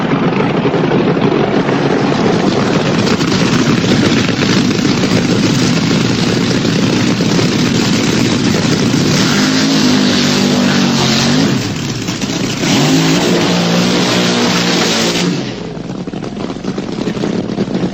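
Vintage drag racing cars scream through burnouts at Santa Pod, a loud, sustained, harsh engine roar with tire squeal that shifts pitch partway before easing off near the end.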